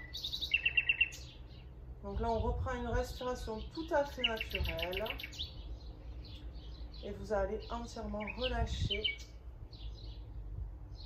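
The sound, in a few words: birds singing outdoors during yoga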